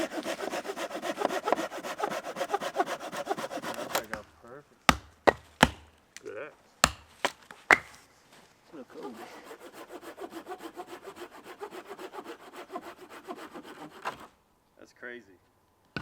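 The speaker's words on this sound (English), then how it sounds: "we're gonna start chopping up wood, processing it down to get a big stack in there" Firewood being processed at a hot-tent campsite: a long stretch of rhythmic hand sawing through wood, then a run of sharp chopping knocks, and another steady sawing passage, all close.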